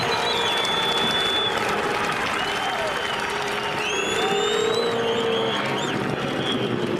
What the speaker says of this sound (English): Crowd very appreciative here